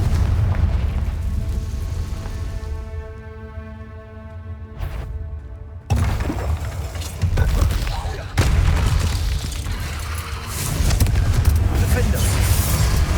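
Repeated fiery spell blasts and booming bursts from the Confringo fire spell in the Hogwarts Legacy video game, loud and close, with sharp onsets that break up a humming game score.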